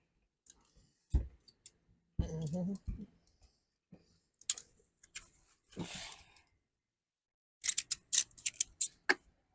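Scattered sharp clicks and ratcheting from a Valterra RV stabilizer being loosened, coming in irregular bursts, with a denser cluster of quick clicks near the end; brief speech-like sounds are mixed in between.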